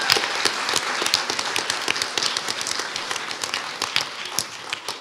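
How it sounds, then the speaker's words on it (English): Applause from the audience at a school spelling bee, steady mixed clapping from a modest crowd with sharp individual claps standing out, no talking over it. "Everybody give him a big round of applause."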